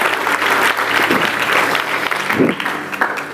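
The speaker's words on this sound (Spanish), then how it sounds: "te damos el mejor aplauso de esta noche a ti, Señor Jesús" Loud, close applause from a church congregation fills the short stretch, dense clapping with a few brief swells and dips, joined by a faint crowd murmur.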